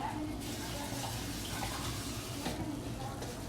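Water is poured in a kitchen to rinse rice, a steady splashing and trickling with a soft background voice.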